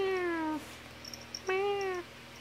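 Two drawn-out meows from a domestic cat sitting on a chair indoors, each clear and fairly loud, separated by a short pause with faint background noise.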